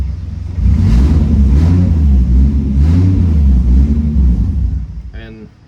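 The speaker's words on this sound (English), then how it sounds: "it's been sitting here idling the whole time I've been talking" A Lexus IS300 with a turbocharged 2JZ-GE engine idles with a steady low rumble that begins after a moment and holds throughout, fading near the end.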